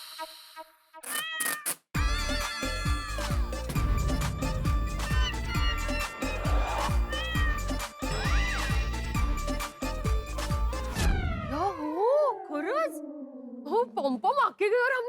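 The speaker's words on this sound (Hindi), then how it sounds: "मैंने बोला था ना कि बिल्ली की आवाज आ रही है" A cat meows repeatedly in a sitcom scene, with drawn-out rising and falling cries that grow longer near the end, mixed with background music and sound effects.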